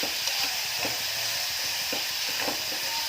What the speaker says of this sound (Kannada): ಈಗ ಎಣ್ಣೆಯಲ್ಲಿ ಇದನ್ನು ಫ್ರೈ ಮಾಡಬೇಕು